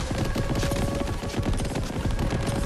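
Rapid volleys of explosions from a Fortnite airstrike roll on continuously, a dense, loud barrage of booms and cracks that never lets up.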